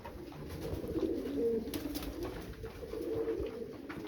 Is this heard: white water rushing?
no